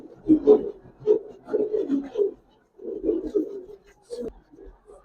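Giribaz coloring racer pigeons cooing up close, soft low throaty coos in several short bursts with brief pauses between.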